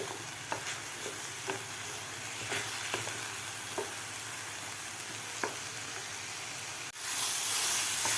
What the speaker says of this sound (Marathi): मसाला आपला व्यवस्थित परतून झालेला आहे